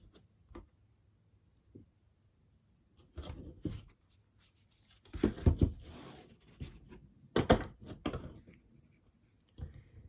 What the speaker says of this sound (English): So as I do the initial shuffling